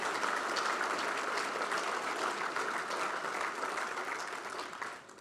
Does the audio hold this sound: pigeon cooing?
no